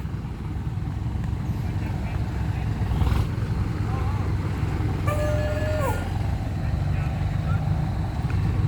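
A tractor hauling crushed grade-A gravel for a rural road rumbles steadily with a low diesel drone, joined midway by a brief higher tonal whine; the engine noise stays constant and close.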